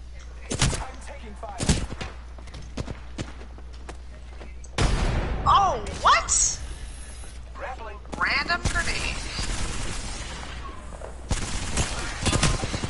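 Bursts of gunfire from the Apex Legends video game, several sharp volleys and single shots spread across the moment, mixed with a player talking excitedly over the action.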